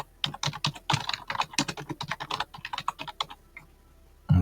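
Rapid typing on a computer keyboard to rename a workflow node, a dense run of close crisp key clicks over several seconds, then a pause and a final thump.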